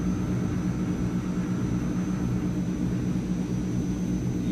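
The twin turboprop engines of a Transall C160 cargo plane in Microsoft Flight Simulator drone loudly and steadily in a low, rumbling roar with a faint high whine, with no speech.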